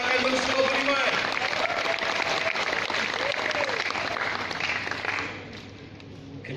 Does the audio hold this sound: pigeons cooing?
no